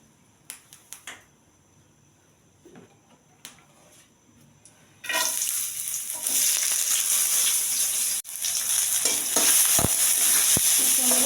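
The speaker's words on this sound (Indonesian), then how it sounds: "Kita kasih minyak sedikit ya. Kita mau tumis dulu bawangnya sampai wangi." After a few quiet clicks, onions hit a little hot oil in a pan and break into a loud, continuous close-up sizzle, briefly interrupted and then resuming with occasional stirring taps.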